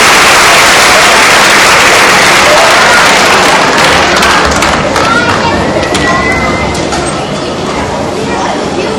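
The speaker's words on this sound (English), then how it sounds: "Another round of applause for Will Hale." Applause from an audience at a Martin Luther King Jr. Day program, a loud, dense wash of clapping and crowd noise that runs throughout and eases slightly toward the end.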